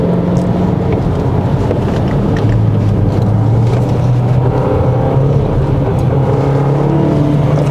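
A 2020 Renault-Samsung XM3 TCe 260 accelerates hard in a low gear along a winding road, its engine a loud, sustained, rising drone heard from inside the car with no talking.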